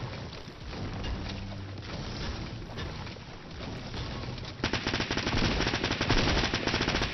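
Rapid SMG fire in Fortnite Battle Royale, bursts of automatic shots that grow louder and denser in the second half, with no speech.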